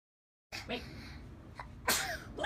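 A young child sneezes twice, a sharp burst near the middle and another toward the end, close and loud, with quiet room noise between.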